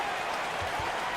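Crowd applause from an NBA 2K23 basketball game broadcast, a short burst of steady clapping filling the arena at moderate loudness.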